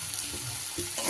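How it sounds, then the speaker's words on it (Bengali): Fried potatoes stirred into a sizzling spice paste in a pan, a short, close burst of steady hissing with soft scraping stirs. "ভেজে রাখা আলুগুলো আমি মিশিয়ে নেব মশলার সাথে।"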